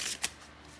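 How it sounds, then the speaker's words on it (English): A deck of playing cards being cut and shuffled, giving a brief riffling burst and a short flick, quiet and close with no talk. "I'll give it a few cuts and a few shuffles"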